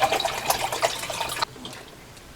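Water is poured into a pot of chicken broth, a splashing, gurgling stream that runs for about a second and a half and then stops, leaving quiet with a faint drip.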